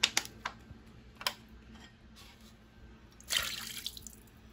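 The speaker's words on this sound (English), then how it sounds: "I'm gonna get a little more of my water" Water poured into a bowl while making crockpot cubed steak and gravy, heard as a few short splashy pours and trickles at close range, with a longer, fuller pour near the end and no talking.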